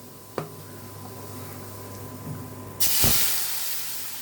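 Cumin seeds and dried chillies hitting hot oil: a quiet opening tap, then partway through a sudden loud hiss that stays strong and slowly settles.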